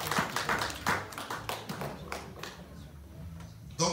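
A church congregation breaks into applause, with brisk clapping that is loudest at the start and then thins into scattered claps, followed by a sharp burst near the end.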